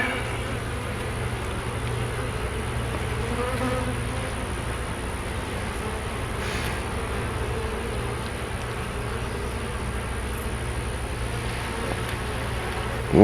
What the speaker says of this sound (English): Boy, there are just so many bees on here.